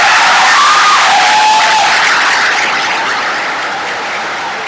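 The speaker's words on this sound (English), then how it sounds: "If you could please hold your applause until the end" Dense, loud applause from a school promotion ceremony audience, mixed with cheering and shouts, continuing steadily throughout and fading only slightly toward the end.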